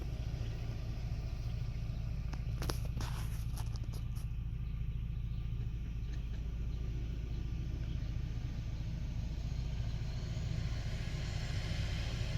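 Aircraft engine running near a dirt runway, a steady low rumble that stays loud throughout, with a few brief higher bursts early on.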